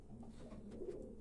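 A racing pigeon gives a soft, low, continuous coo at close range, faint and steady for about a second with no voices.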